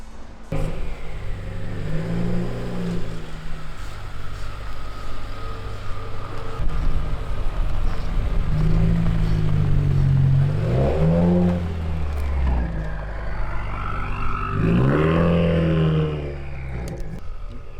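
A Subaru WRX engine with a new downpipe exhaust revs up and down in several bursts, loud and close, with a deep throaty exhaust rumble and rising whines between idle stretches.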